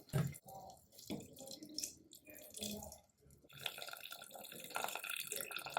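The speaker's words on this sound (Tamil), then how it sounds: "அரிசி கழுவுன தண்ணீரை ஊற்றிக்கலாம்" Rice-washing water is poured and splashes softly into a pot, quiet and uneven, with small gurgles and drips.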